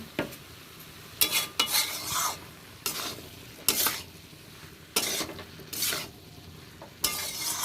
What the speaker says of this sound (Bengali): আর খুব ভালো করে মশলার সাথে এটা মিশিয়ে নিতে হবে।